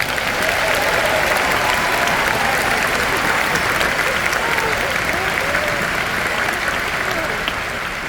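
Sustained applause from a large crowd at the University of Hawaii at Manoa commencement, dense and steady clapping at full volume throughout with no break.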